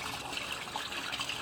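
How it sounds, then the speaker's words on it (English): Water from every tap in a house runs through a residential ceramic sewer pipe, a steady, hollow, low-level rush and trickle with no voices. "So there's a fair amount of water flowing through there."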